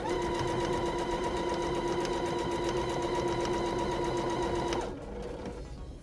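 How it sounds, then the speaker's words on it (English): A sewing machine stitches fabric edges for a reversible door bow, a loud, steady, rapid whirring run that stops abruptly near the end. "Line up your edges and sew."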